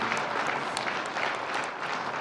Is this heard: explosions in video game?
no